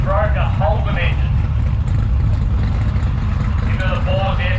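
A turbocharged, stroked Holden-engined drag car at Palmyra Dragway gives a loud, steady low rumble, with an announcer talking over it.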